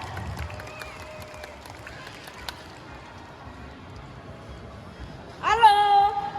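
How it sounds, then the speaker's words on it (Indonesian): An audience claps at an abacus competition held at The Park in Solo, with light scattered clapping that swells into a louder burst of applause and cheering near the end. "Beri tepuk tangan lagi yang meriah, coba."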